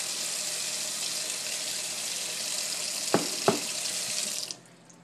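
Tap water runs steadily into a sink while a jar is rinsed, with two small knocks near the end before the flow shuts off.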